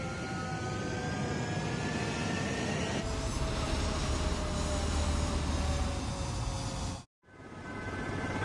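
A military jet in Ace Combat 7 roars loudly and steadily as it powers up and takes off, with a rising whine over a rumbling low end and a brief cut near the end.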